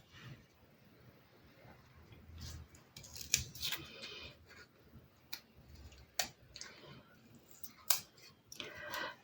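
Scissors make a series of crisp, close snips while cutting paper for a Halloween craft card, irregular clicks scattered among quieter handling sounds.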